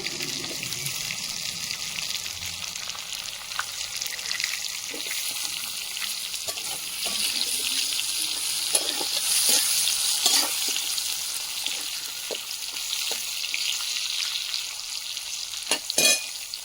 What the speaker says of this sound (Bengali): দিয়ে বেগুনগুলো ভেজে নেবো